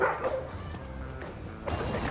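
Dogs on a rooftop give a few close, loud woofs and yips in quick succession, with some scuffling in between.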